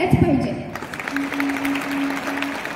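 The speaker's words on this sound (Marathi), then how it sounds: "मॅडमसाठी आणखी एकदा जोरदार टाळ्या झाल्याच पाहिजे." Audience applause at a stage program, a short burst of clapping rising after a voice at the start and continuing moderately as a sustained tone hums beneath.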